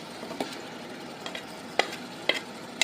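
Mustard paste and spices, seasoned with chili flakes for a mango pickle, sizzle and fry in a pan. A steady hiss runs throughout, broken by a few sharp clinks and scrapes from the stirring spoon, with no talking.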